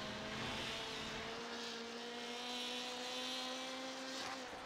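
Onboard a rallycross race car in iRacing at Sonoma Raceway, the engine holds a steady high drone with a slowly rising pitch and a brief shift near the end, alone and fairly quiet.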